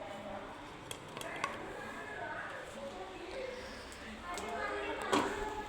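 A metal pan is set down on a stovetop while pizza is being made, giving a few light clanks and taps under ongoing talk.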